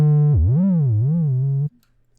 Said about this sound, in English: So if you have like an 808 with the pitch bend